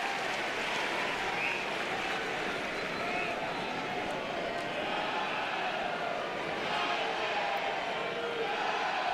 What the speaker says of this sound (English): The crowd trying to energize the Tigers offensively.